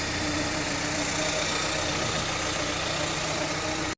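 A Toyota Corolla with a 2E engine, recently fixed for unstable idle, settles into a steady, even idle at close range, a constant low hum and rumble with no speech, cutting off abruptly at the end.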